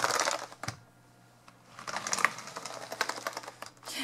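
Keys on a computer keyboard clatter and rattle as a slightly damp cloth is wiped across them, in brief clicking bursts that stop for a quiet pause in the middle.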